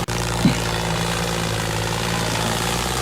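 A tractor engine roars at full speed in low gear while climbing a steep uphill track, a loud steady droning rumble held constant and close throughout.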